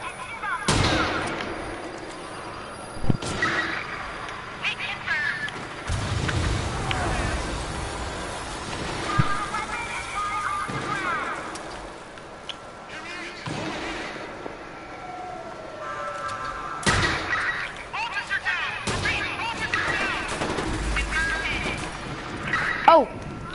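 Scattered gunshots in Watch Dogs 2, with sharp isolated cracks spread across a busy game soundscape and people talking throughout.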